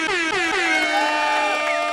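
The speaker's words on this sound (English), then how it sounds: "I love that air horn." A loud, brassy air horn blasts in a short burst with a wavering, descending tone, standing alone.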